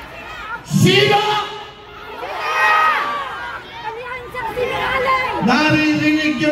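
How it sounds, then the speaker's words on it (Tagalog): A crowd of Filipino people shouts together in loud, ragged waves of raised voices, rising and falling across the whole stretch. "Naririnig nyo na siguro ang sigaw ng sambayanang Pilipino."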